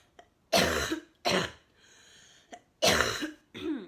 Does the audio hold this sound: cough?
yes